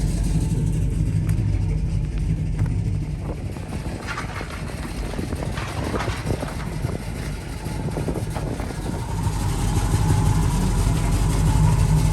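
A Buick engine idles steadily with a low, even rumble close by, the note dipping slightly midway before settling back into a constant run.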